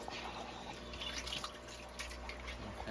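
Water from a fish tank pours steadily over brine shrimp as they are rinsed, a continuous close splashing and trickling with faint drips throughout.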